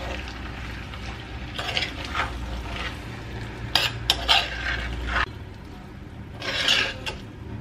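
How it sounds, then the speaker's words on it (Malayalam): A kilo of chicken pieces for a Kerala chicken curry is stirred in a cooking pan: a low frying hiss with repeated bursts of spoon-on-metal scraping and rubbing, close up and without talk. "അത് നമുക്ക് ഇതിലോട്ട് ചേർത്ത് കൊടുക്കാം. നല്ല ഒന്ന് ചേർത്ത് ഇളക്കുക കേട്ടോ"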